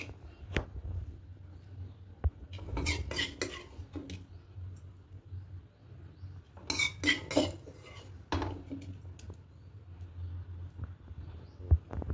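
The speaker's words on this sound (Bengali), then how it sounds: "এবার গ্যাসটা অফ করে দিয়ে অন্য একটা পাত্রে ঢেলে নেব।" Egg curry with thick gravy and garam masala, gas turned off, poured from one pot into another: scattered metal pot clinks and scraping clatters in short bursts over a low kitchen hum, no talk.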